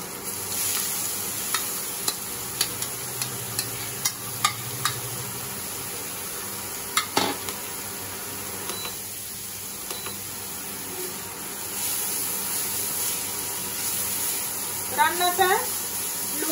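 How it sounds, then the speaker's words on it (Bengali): Spice tempering for papaya chhechki crackles in a little oil, then papaya is added: a steady close sizzle with scattered sharp pops and stirring scrapes, a voice briefly heard near the end. "সম্বরাটা ফাটতে শুরু করেছে আর একটা গন্ধ বের হতে লেগেছে। এবারে পেঁপেটা আস্তে আস্তে এর মধ্যে দিয়ে দেব।"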